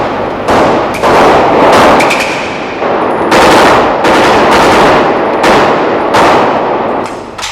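Rifle fire rings out in repeated loud cracks and short bursts, echoing sharply in an irregular rhythm during fighting on a town front line in Bosnia, with no voices.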